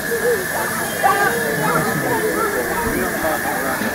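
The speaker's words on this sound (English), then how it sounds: "It's a steam train." Steady steam hiss from a miniature railway steam train, broad and continuous under excited talk from riders close by.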